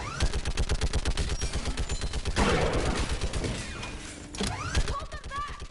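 A mounted gun in the sci-fi shooter Mass Effect 3 fires rapid, rhythmic bursts close up, with a brief crackling impact between volleys and faint voices underneath.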